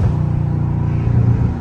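A loud Dodge Scat Pack downshifts from fourth to third gear in traffic, a close, deep engine rumble whose revs swell briefly near the end, with no voices.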